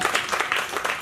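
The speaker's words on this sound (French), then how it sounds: "On applaudit." A group of women applauds on a recreational outing, brisk dense clapping that fills the whole moment, close and fairly loud.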